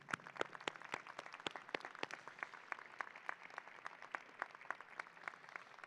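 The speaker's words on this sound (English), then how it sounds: "I'd like to have you all applaud the parents and loved ones here" An audience at a medical school commencement ceremony claps for parents and loved ones: scattered, sharp hand claps that stay faint and distant throughout, with no voices.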